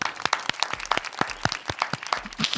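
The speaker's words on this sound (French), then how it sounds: "On peut applaudir." A small studio audience claps in a loose, sparse patter of distinct handclaps, close and fairly light, lasting a couple of seconds.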